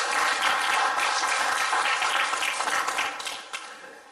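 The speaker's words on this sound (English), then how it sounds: "Give Lord a hand clap of praise." A church congregation claps in praise, a dense and sustained burst of many hands that tapers off toward the end.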